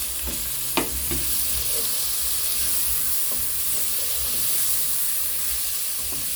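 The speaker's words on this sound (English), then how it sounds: "so I'll now go ahead and add in my tomatoes" Tomatoes hit a hot frying pan for a cook-at-home dinner of arrowroots and green bananas, giving a steady loud sizzle and hiss with a few clinks of stirring.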